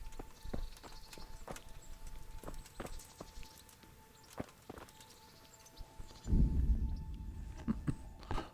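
A horse in Kingdom Come: Deliverance walks with regular hoof clops on hard ground, evenly spaced and fairly faint, with a brief louder rustling burst near the end.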